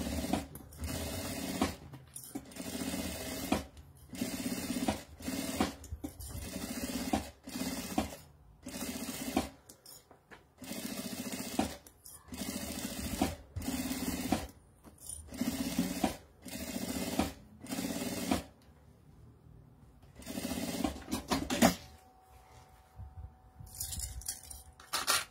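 Sewing machine stitching along the edge to join lining fabric to the main fabric, running in close, loud bursts of rapid stitching separated by short pauses, with a quieter stretch near the end.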